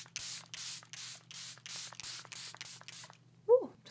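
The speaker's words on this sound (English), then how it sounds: "This is my favorite setting spray." A Charlotte Tilbury Airbrush Flawless Setting Spray is pumped at a face in about eight quick, close, evenly spaced bursts of fine mist, then goes quiet before a brief squeak.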